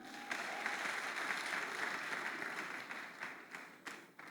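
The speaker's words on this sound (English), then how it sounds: "Can you clap for them?" A room full of people applauds steadily, a dense wash of clapping that holds for several seconds before tapering slightly at the end.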